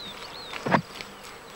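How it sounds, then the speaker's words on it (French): Honey bees near a hive during the honey harvest, a short close buzz swelling briefly over a faint steady hum, with thin passing whines of other insects. "Voilà maintenant des semaines que les abeilles butinent, construisent, pondent, stockent, entretiennent et surtout font des provisions de miel pour l'hiver."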